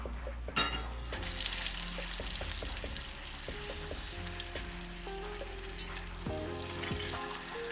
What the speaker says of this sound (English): we're gonna go ahead and put the half a stick of butter in first.